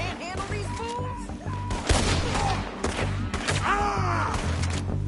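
Gunfire from a shootout in the Red Dead Redemption 2 video game, with a rapid fusillade of shots and thuds behind in-game dialogue and background music.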